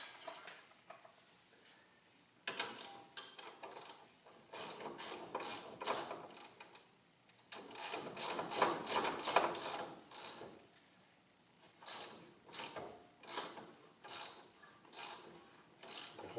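A 17 mm ratchet wrench tightens a ball joint bolt on a 2003-2007 Honda Accord, making bursts of quick close clicking with pauses between strokes, plus some scraping and handling noise.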